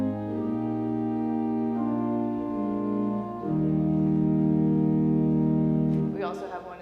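Organ pipes from one stop sound sustained chords in a slow progression, steady and fairly loud, closing with a brief spoken voice at the end.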